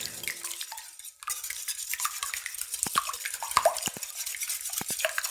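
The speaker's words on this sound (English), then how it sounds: "now we're just going to whisk this up to combine them together" Eggs with ground pepper whisked in a bowl, a quick series of light clicking taps and scrapes against the bowl, close and fairly quiet, no talking.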